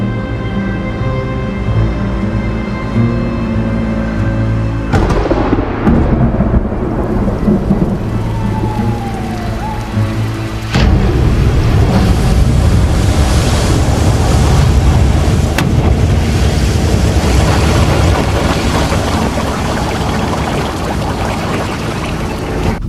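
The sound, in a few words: AI-generated storm with thunder and waves hitting a seawall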